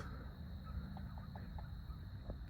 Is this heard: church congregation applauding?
no